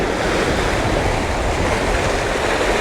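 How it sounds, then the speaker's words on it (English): Ocean waves crashing over rocks at Sand Point, a loud, continuous broadband roar of surf with steady churning and no pauses or voices. "waiting for a big wave to come up over there"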